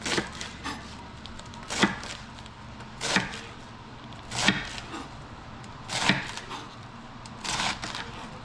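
A sharp knife chopping lettuce on a board, with single crisp cuts landing about every one and a half seconds, close and fairly loud over a quiet background.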